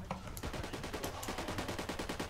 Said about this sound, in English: PKM is a very powerful submachine gun.